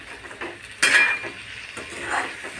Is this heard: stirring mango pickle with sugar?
yes